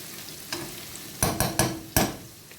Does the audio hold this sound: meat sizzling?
yes